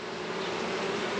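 Honeybees swarm around an open nuc hive, making a close, steady, droning buzz that holds even and unbroken throughout.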